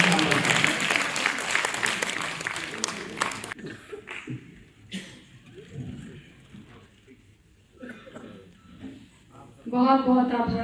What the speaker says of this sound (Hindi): मैं चाहता हूं कि आप लोग एक बार दोनों हाथ ऊपर उठाकर जोरदार तालियों के साथ देश की लाडली और प्रिय कवियत्री अनामिका अंबर।